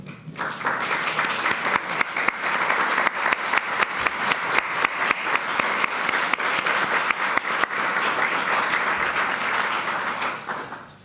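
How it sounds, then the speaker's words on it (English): An awards-ceremony audience applauds the advisory board and office staff, a loud, dense burst of clapping that holds steady for several seconds before tapering off at the end. "can we give them a round of applause?"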